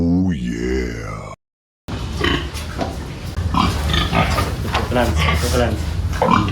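A sow grunts loudly and close by, deep rough grunts and groans at first, then continuing amid people talking over farm background noise.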